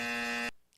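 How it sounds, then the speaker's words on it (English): A single harsh electronic buzzer blares for half a second, loud and steady, then cuts off abruptly into near silence. "I only have one buzzer sound effect right now"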